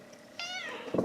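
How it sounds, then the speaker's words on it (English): A cat gives a single clear, close meow, rising then trailing off, followed by a brief soft rustle. "There's a kitty cat."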